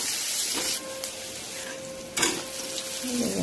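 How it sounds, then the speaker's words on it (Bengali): Eggplant fries in mustard oil in a wok, a soft, steady sizzle broken by a couple of short scraping stirs. "বেগুনটা ভালোভাবে লাল করে ভাজিয়ে নেব।"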